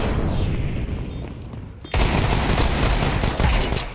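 Counter-Strike 2 gunfire plays as a muffled, rumbling burst that cuts abruptly into a louder, sustained volley of dense rapid shots with booming low end, continuing to the end.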